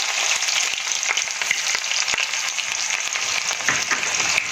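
Chopped onion frying in a pan for a traditional Pahadi dal, a steady, even sizzle with faint crackles and spatula taps, close and without voices.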